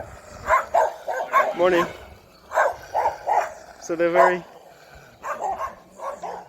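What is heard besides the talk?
dogs barking in a neighborhood street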